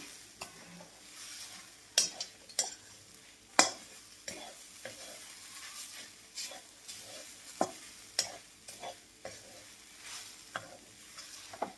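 Beetroot barfi mixture roasts in a pan over a medium flame, stirred with a spoon that scrapes and knocks against the metal in irregular sharp clacks over a faint, quiet sizzle.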